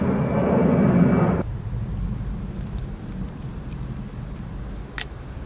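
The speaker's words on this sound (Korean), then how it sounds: "이렇게 영상을 찍다 보면은 비행기 소리가 막 나잖아요" A passing airplane roars overhead, a broad engine rumble that is loud at first, then thins out into a fainter, lingering drone during an indoor houseplant repotting.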